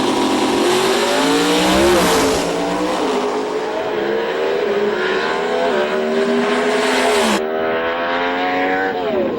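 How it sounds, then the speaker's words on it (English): Pro Stock drag race car makes a solo pass at an IHRA drag strip, its engine howling loud and continuous with rising harmonic sweeps as it shifts through gears, fading slightly near the end. "So Bob Birch will make a solo pass here in memory of his fallen comrade."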